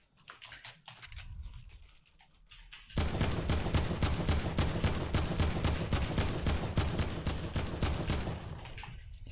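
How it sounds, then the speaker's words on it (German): Rapid bursts of automatic gunfire in Fortnite erupt after a short quieter stretch, loud and sustained with sharp repeating shots dominating the scene. "Jo, Schuss auf uns."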